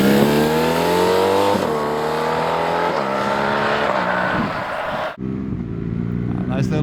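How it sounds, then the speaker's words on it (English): A 2026 BMW R1300GS adventure motorcycle with an aftermarket exhaust, heard while riding: a loud, close engine note with rising and falling revs through gear changes, then a sudden drop to a quieter idle-like hum at the end. "I'm not sure it's terribly louder than the stock exhaust"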